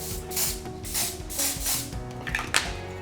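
Several quick misty sprays of foundation from a pump bottle onto a face, close by, in a soft rhythmic series with a faint tap near the end.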